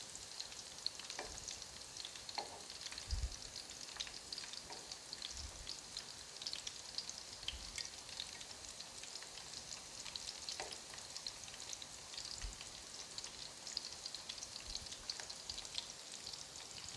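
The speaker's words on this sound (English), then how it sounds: "Let's flip the meatballs now over to the other side." Chicken meatballs fry in a pan and get flipped over, giving a steady close sizzle with scattered soft clunks and scrapes as they are turned.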